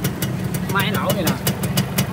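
A car engine idles steadily at close range, a low rumbling hum with faint rhythmic pulses, while voices talk briefly over it.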